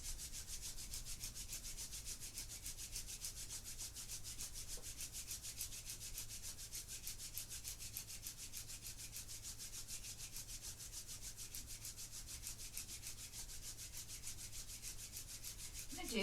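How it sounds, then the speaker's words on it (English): Palms rubbing together in a steady, continuous soft swishing friction, quiet and close, sustained evenly over a long stretch with no talking. "Bring your hands up towards your heart and you're going to rub your palms together, creating some energy in your hands."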